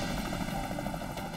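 A rescue helicopter hovers over the icy Potomac River, its rotor and engine a steady loud whirring drone with fast rhythmic blade chop throughout.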